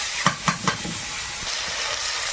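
Chili, whole cumin, bay leaf, garlic and chopped onion hitting hot oil in a wok, giving three sharp crackles and then a steady loud hiss that carries on with no voices.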